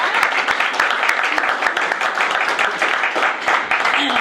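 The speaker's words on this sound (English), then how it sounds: "Can we get another round of applause?" Loud, sustained audience applause at a chamber of commerce event, dense crowd clapping with sharp individual claps standing out, continuous for the whole stretch.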